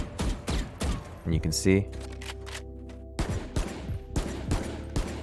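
Rifle shots tapped one at a time in the tactical shooter VALORANT, sharp single cracks at irregular intervals with a short burst of clicks in between. Someone speaks briefly over the shots.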